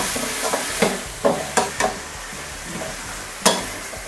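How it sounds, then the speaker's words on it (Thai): Curry paste stir-fried over high heat for a Thai mussel stir-fry, a dense sizzle punctuated by several sharp spatula scrapes and clanks against the pan. "เราจะใช้ไฟแรงในการผัดเครื่องแกงนะคะ ผัดให้หอมเลยค่ะ"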